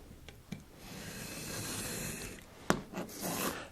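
A trimmer slices along the edge of a photo print in a busy photo lab, giving a sustained faint rasping slide with a sharp snap near the end and a few quieter scrapes around it.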